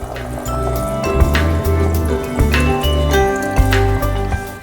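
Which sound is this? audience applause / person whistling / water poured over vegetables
water poured over vegetables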